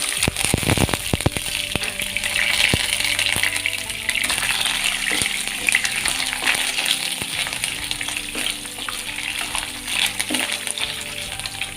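Grated coconut frying in hot coconut oil in a kadai, a dense, continuous sizzle with crackling pops heard close up, along with a few sharp clinks of a utensil.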